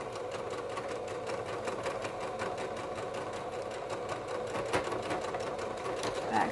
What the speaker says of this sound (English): And go ahead and just top stitch it down.